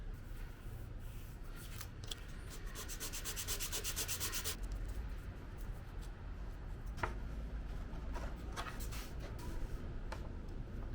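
Sanding the wooden top of a doubletop archtop guitar by hand, a steady soft rubbing scrape that continues for several seconds, quiet and close.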